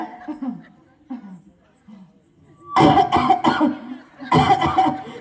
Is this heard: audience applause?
no